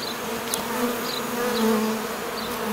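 Honeybees from a colony in a tree trunk hum in a steady, dense, continuous drone at close range, with occasional louder individual buzzes passing near.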